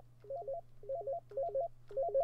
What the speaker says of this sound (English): Oh, great, the phone call again.